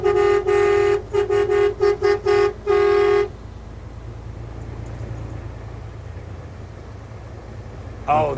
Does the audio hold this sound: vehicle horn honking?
yes